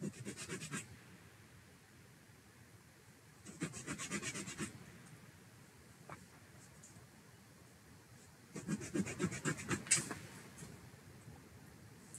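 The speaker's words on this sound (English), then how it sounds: "it's probably just going to be a lot easier just to use the sandpaper and sand off the tab." Sandpaper scrubs away a plastic tab on a Tamiya TT-02 RC car kit part, three bursts of quick back-and-forth rasping strokes separated by quiet pauses, close and fairly soft.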